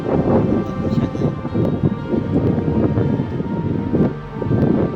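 Rough, gusty wind buffets the microphone continuously, a loud blustery roar with choppy bursts throughout.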